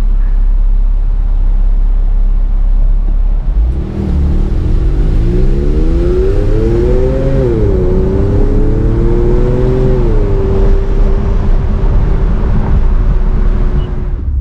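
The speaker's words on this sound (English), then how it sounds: "so you can pick up the exhaust note" A Porsche 911 with a Fister aftermarket exhaust idles, then revs up sharply several times with a rising, falling roar before settling into a steady drone, loud and close.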